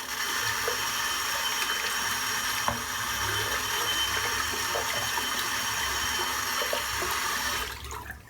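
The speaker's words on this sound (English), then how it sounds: "Rinse the soap out." Water runs steadily from a tap while soap is rinsed out of a shaving brush, a broad continuous splashing hiss that holds for about eight seconds before cutting off near the end.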